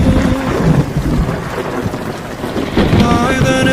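Steady heavy rain with rumbling thunder laid over a song, a dense loud wash of rainfall and low rolling thunder filling the whole stretch, with faint musical tones surfacing near the end.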